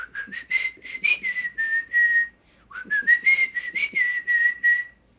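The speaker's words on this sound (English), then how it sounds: "You're gonna ask me to whistle?" A person whistles a song tune alone, a clear, close melody in bright sustained notes and short slides, with one brief pause midway before the phrase resumes.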